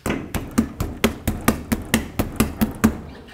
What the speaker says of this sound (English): use a rubber mallet and hit it from the back side. That should pop it right off.